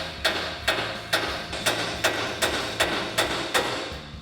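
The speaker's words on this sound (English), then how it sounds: "we can strike the side of the knuckle to break our ball joint free" A hammer strikes the side of a vehicle's steering knuckle to break the upper ball joint free, about ten sharp metallic blows at a steady, fairly quick rhythm, close and loud, with no talk.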